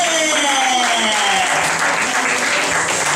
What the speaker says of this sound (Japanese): 皆さん拍手で